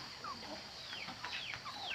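Soft, scattered hen clucks rise over a constant background hiss, faint and somewhat distant.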